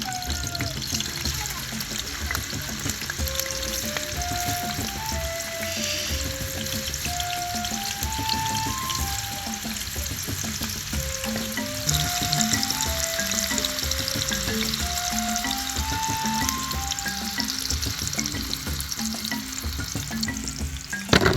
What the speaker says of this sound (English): More oil is added and the sausages are fried until nicely browned.